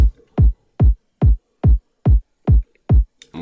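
Punchy EDM kick drum thumping alone in a steady, evenly spaced pattern, eight loud deep hits with short booming decays and silence between.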